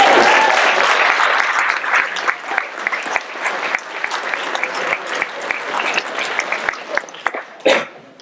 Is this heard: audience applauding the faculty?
yes